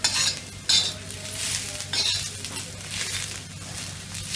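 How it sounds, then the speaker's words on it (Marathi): Dry coconut and cumin roast in a pan with a close, constant hissing sizzle, scraped and stirred a few times with a utensil. No voices are heard. "आणि आता हे सुकं खोबरंही चांगलं असं ब्राऊन कलरवर भाजायचं"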